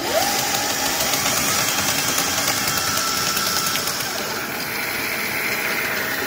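Razor MX400 electric scooter motor, upgraded with a dual battery build, running on the throttle with a steady whirring drone that holds loud and close throughout, easing slightly near the end.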